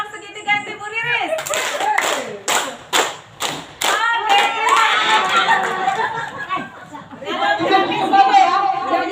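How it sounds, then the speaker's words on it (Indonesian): A group performs a patterned rhythmic clap for a teacher, a series of sharp, loud, evenly spaced claps in sequence, followed by cheering and lively chatter. "Kita kasih tepuk tangan segitiga untuk Ibu Riris."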